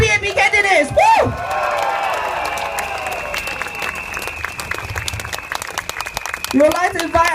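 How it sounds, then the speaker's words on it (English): Loud applause with cheers and whoops from a crowd greeting People's Action Party election candidates, sustained for several seconds, with a voice calling out at the start and end. "Big round of applause for our PAP candidates."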